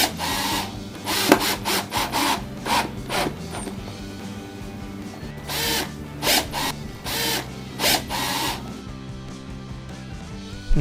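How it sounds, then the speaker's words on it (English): A power drill whirs in repeated short bursts, biting into wood close by, with brief pauses between each run. "using a cordless drill with a level on top, I'll pre-drill the 4 holes"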